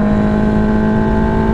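Formula 4 race car engine running during break-in of a new engine, a loud, steady, close mechanical drone with a strong constant pitch and no rise or fall over a short moment.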